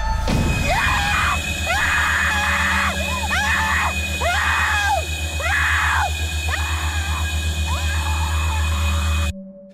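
A child's high, drawn-out screams repeat in bursts about every second over a dense, tense film-score drone, loud and close, ending abruptly.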